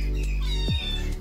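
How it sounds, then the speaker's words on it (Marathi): A house cat gives a single clear meow indoors, rising then sliding downward, close and loud over a faint steady background hum. "हे बघ, हे मांजर एक."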